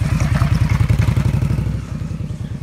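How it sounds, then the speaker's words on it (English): An Indian Scout motorcycle engine running right after a roll start with the clutch popped, a loud, close, rhythmic mid-pitched exhaust thump that eases slightly toward the end. "And then I just pop the clutch and immediately it fires up."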